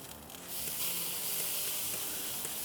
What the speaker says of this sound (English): Let's give it a little spritz. And this is just apple juice with apple cider vinegar.